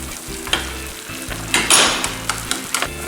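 Beaten egg mixture with stock, for Japanese rolled omelette, sizzles and crackles in a hot pan, with bursts of stirring and light scraping against the pan throughout.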